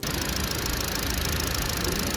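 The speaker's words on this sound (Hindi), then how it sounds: "जिसकी इंजन साउंड अगर आप सुनना चाहें" Hyundai i20 Magna Executive engine idling, a steady close-up mechanical rumble with an even vibration and no change in pitch.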